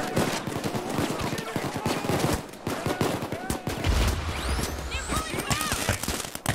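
Rapid gunfire in the Payday 2 video game, dense bursts of sharp shots and automatic fire crackling throughout, with a voice talking over the shooting.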